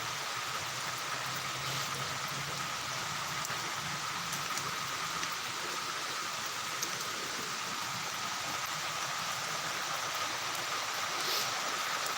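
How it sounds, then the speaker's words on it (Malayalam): Steady, dense rainfall hisses continuously, a heavy downpour drumming on surfaces with no break throughout. "നല്ല മഴ വീട്ടിൽ ഇരുന്നിട്ട് ഇങ്ങനെ ആസ്വദിക്കണം മഴ"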